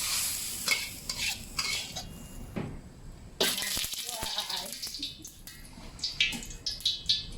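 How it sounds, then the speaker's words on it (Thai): Pork and egg stir-fried in a pan for Thai pad see ew, with a steady sizzle broken by repeated scraping and clinking of a utensil against the pan, close and fairly loud, with no talking. "ผัดมูกับไข่เลยนะ"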